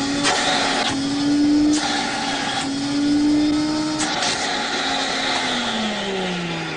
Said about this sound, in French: J'ai commencé les essais en mettant des morceaux de caoutchouc devant un tuyau d'aspirateur.